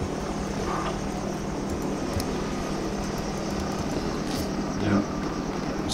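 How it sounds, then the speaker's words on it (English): A helicopter in a video game throbs steadily through the whole stretch, a loud, even rotor and engine drone holding at one level with a few faint clicks, and a brief low bump near the end. "If this chopper lands in us."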